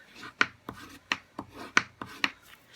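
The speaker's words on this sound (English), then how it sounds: "burnish those pretty well so that that will stay nice and crisp folded" Folded cardstock card bases are burnished with firm strokes, five or six close, rasping rubs in an even rhythm, no talking.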